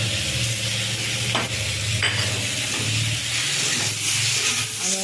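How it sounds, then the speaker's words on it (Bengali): Turmeric and ginger paste sizzles steadily in hot oil with fried luffa, a loud continuous frying hiss broken by the occasional scrape and stir of a utensil in the pan. "আদা বাটা দিয়ে ভালো করে এটা কষে নেব"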